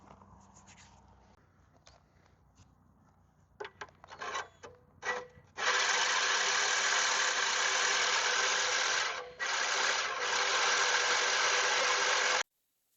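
The reel of a Webb WEH12R reel mower is driven backwards for backlapping, first a few short bursts of rasping, then a continuous loud gritty grinding that dips once and cuts off abruptly.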